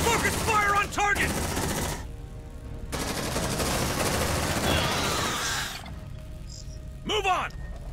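Marines firing their weapons in Aliens: Dark Descent, loud bursts of automatic fire broken by short pauses, with alien shrieks and game chatter mixed between the volleys.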